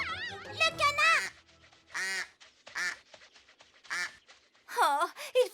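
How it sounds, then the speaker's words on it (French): A cartoon duck quacks in a few short, bright bursts spread across the moment, alternating with animated character voices talking in a doll adventure scene. "Le canard!"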